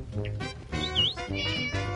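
A cat in the firefighting video game Flame Over meows clearly a few times in quick succession, close and prominent, with no talk over it.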